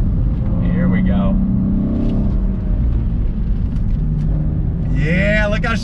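A Cadillac ATS-V with a six-speed manual gearbox pulls hard out of corners, its engine droning loud and close throughout with rising revs near the end, while someone talks over it.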